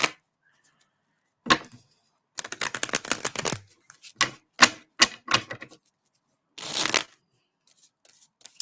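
Cards being shuffled in quick riffling bursts, with crisp flutters and snaps separated by brief pauses, close up and fairly loud.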